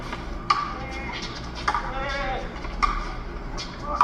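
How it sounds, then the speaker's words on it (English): Faint goat-like bleats sound several times at intervals, distant and thin, behind the murmur and clatter of a crowd at a game final. "Sounds like a goat."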